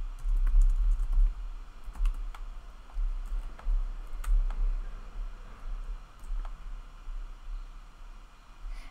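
Quiet, steady typing on a computer keyboard while editing website text, with irregular clicking keystrokes over a low background hum and no voices.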